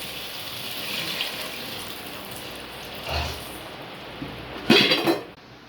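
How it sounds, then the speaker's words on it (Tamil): Water is poured into a pot of mushroom biryani in short splashing bursts, the loudest near the end, with pot clatter and a cough heard nearby. "தண்ணி ஊற்றிக்கலாம்."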